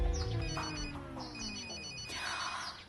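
A tinny electronic mobile phone ringtone plays a repeating melodic pattern, fairly quiet, with soft background sounds beneath.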